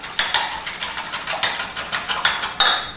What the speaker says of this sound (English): Whisk it all together.